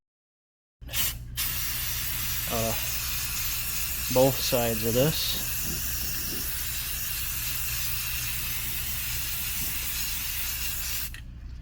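A sharp hiss of a Rust-Oleum metallic aluminum spray paint can coating an old body armor panel starts abruptly and runs continuously for about ten seconds, close up, with someone speaking briefly over it.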